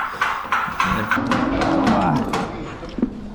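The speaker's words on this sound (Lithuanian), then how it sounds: "pas mus fermai tenais chaosas, visos jos bliauna" Several cows low and moo close by, overlapping calls rising and falling in a noisy farm barn with clattering in the background.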